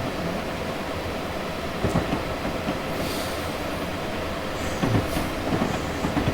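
An Amtrak ACS-64 electric locomotive in Train Simulator 2021 on the Northeast Regional route rumbles along at speed in a steady, loud roar, with faint rail clacks and occasional brief wheel squeals.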